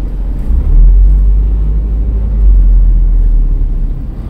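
A car engine with the accelerator pressed during a driving lesson, a steady low rumble that swells slightly and stays close and loud throughout, with no one talking.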